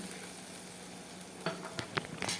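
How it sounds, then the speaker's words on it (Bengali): Raw papaya cooked in spiced oil sizzles steadily in a pan, then sharp hissing bursts and stirring scrapes flare up as vinegar is added, moderately close with no talking. "তো এবার আমি দিয়ে দিচ্ছি ভিনিগার"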